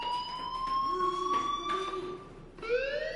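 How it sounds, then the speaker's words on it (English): A fire alarm in the video game Life is Strange rings in long sustained electronic tones with a harsh buzzing edge, sounding steadily then breaking off and resuming, loud and unaccompanied by talk. "do you hear that fire alarm?"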